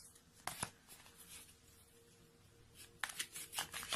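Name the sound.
shuffling oracle cards for a tarot reading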